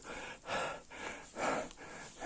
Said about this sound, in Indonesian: Saya ambil napas dulu.